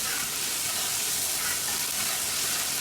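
Garlic paste and spices sauté in hot oil for an Idris lamb biryani, giving a loud, continuous, even sizzle with no pauses.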